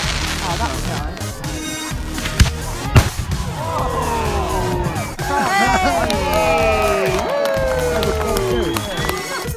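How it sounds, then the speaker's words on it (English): Bonfire Night fireworks at a small village display: sharp bangs and crackling bursts with whistling, rising-and-falling tones from rockets, continuous busy sound throughout with crowd noise underneath. "That was a fireworks display and I thought it was pretty good for a little village."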